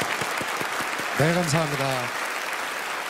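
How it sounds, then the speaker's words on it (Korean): Audience applause fills a Korean PD Awards ceremony in 2017 as a steady, dense wash of clapping, with a voice briefly speaking over it midway. "큰 박수 부탁드립니다."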